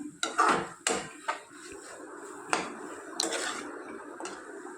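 A metal spoon knocks and scrapes against a pan while dried prawn and gongura curry is stirred, a few sharp clanks followed by quieter scraping, close up and without talking.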